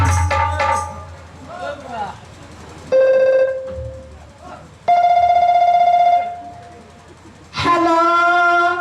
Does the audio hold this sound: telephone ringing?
yes